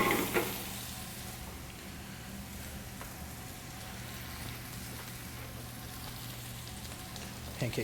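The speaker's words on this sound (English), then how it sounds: "The rosemary, we're just going to cook it until it gets just tender enough" Fresh rosemary and spinach sizzle quietly in a pan, a soft continuous crackle like light rain, with a few louder clinks or stirs at the start and end and no speech.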